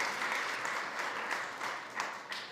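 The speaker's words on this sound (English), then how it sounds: "Please give Jared a round of applause for being such a great inspiration" Audience applause at a food-themed summit, a steady wash of many hands clapping alone with no voices on top.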